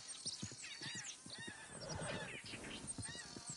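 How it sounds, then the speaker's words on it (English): Horses in a video game neigh and whinny several times in quick succession, with hoofbeats clip-clopping underneath, all set against a busy, steady game-world background. "Oh, shit, the horses. Damn horses."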